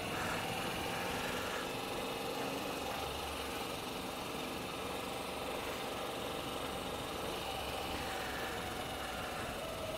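A Moto Guzzi V85TT adventure motorcycle on the move, its engine a constant, moderately loud drone mixed with rushing wind noise, holding steady throughout without speech.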